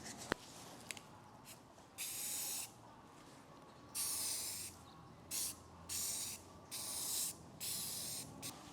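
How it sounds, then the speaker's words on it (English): Aerosol primer sprayed onto Toyota Tundra door handles: a series of hissing bursts of about a second each, with short pauses between passes, close and moderately loud over a quiet background. "now we can switch over to our primer, and we're just going to want to do some nice even coats with this over all the surface area"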